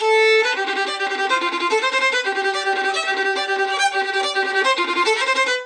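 Fast violin passage bowed with more pressure, a dense rapid run of notes that sounds heavier and grittier, close and loud, unaccompanied.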